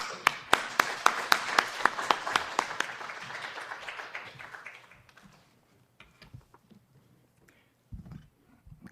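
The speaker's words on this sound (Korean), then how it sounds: "우리 목사님 나오실 때 박수로 환영하겠습니다." Crowd applause at a church service starts with sharp individual claps, builds briefly, then fades away within about five seconds, leaving quiet room noise and a few stray sounds.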